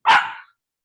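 A single close, loud dog bark, one short burst with a quick tail that fades within half a second, followed by silence.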